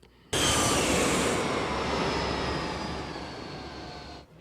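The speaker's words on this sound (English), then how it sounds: "Actually show the planes taking off." Airplanes taking off in the film Home Alone 2: a loud jet roar starts abruptly, holds as a broad steady rush with a slowly falling whine, then cuts off near the end.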